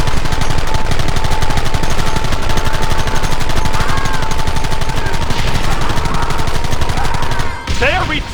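Sustained rapid gunfire and machine-gun bursts from a Red Dead Redemption shootout, loud and dense throughout, with a voice briefly calling out near the end.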